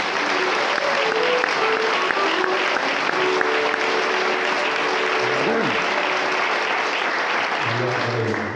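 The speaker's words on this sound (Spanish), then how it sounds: "Sin más, un aplauso para Aurelio." Sustained audience applause at a choir performance, many hands clapping loudly and evenly for the full length, with brief voices and tonal sounds surfacing beneath.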